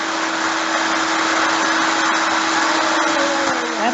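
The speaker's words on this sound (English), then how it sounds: "That is a really loud vacuum." Loud vacuum cleaner running nonstop in the background, a steady high-pitched whining roar with a sustained motor tone, filling the whole stretch without pause.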